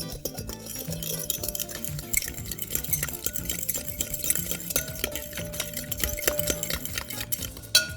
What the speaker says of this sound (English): We're going to whisk this, friends.